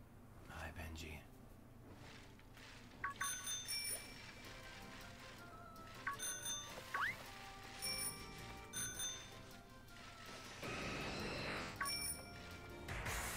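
Bright, ringing strikes of a bicycle-style bell in Pokemon Sword & Shield, repeated in short bursts every second or two over soft game ambience, with quiet whispering speech nearby.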